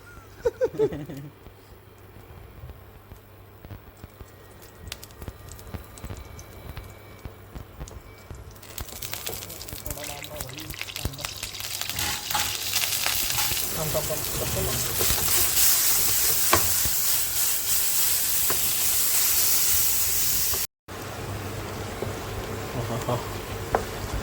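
Oil heating in a pan while kharda chicken is cooked, starting as faint crackles and building into a steady, broad sizzle that rises in loudness and then stays constant, with a brief cut near the end.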